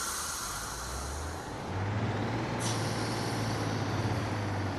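A two-car diesel commuter train pulling away in the Train Sim World 6 simulator, its engine rising to a steady low drone with a brief hiss partway through.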